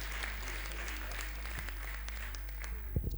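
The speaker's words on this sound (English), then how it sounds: "Please give him a round of applause." An audience gives a speaker a round of applause at an anniversary and graduation event, even crowd clapping under a low hum, with a few louder thumps near the end.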